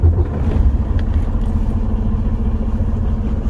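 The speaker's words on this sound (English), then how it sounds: "You just heard the truck start." A pickup truck engine started with the key, turning over and settling into a loud, close, steady low idle with some clatter, no voices.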